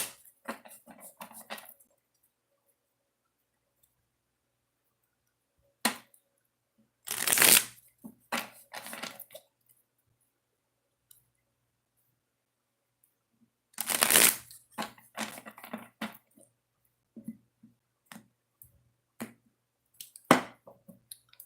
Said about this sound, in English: let's get to shuffling these decks before we move forward